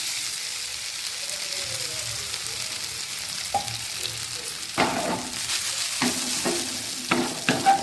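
Soybeans are stirred in a hot pan, a steady frying sizzle with scraping spoon strokes that grow louder and more frequent toward the end.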